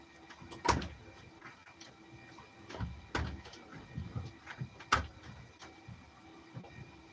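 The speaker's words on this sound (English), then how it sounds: "I'm just going to open the door, alright?" A house door is opened during a police visit, with a few quiet clicks and latch-like clunks spaced out over low room noise and no speech.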